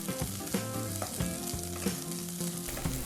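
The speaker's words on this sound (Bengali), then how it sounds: "গরম হয়ে গেলে ধুয়ে রাখা নিম পাতাগুলো দিয়ে দেব।" Washed neem leaves frying in a hot pan over a high gas flame, a loud steady sizzle with brief crackles and pops scattered throughout, close by with no voices.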